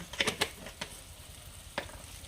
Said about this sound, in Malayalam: അപ്പോൾ അതിൻ്റെ പച്ചമണം മാറുന്നത് വരെ ഒന്ന് വഴക്കി കൊടുക്കുക